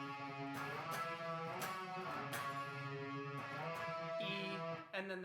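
Sustained guitar riff ending on E, ringing chords and picked notes with regular accents, played steadily at a moderate level with no voices.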